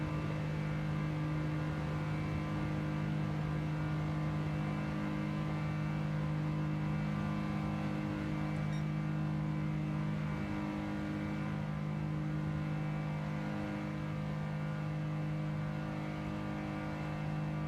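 Race cars in Gran Turismo 7 running in a tight pack, a steady, loud engine drone with a sustained whir that holds level throughout, no talking.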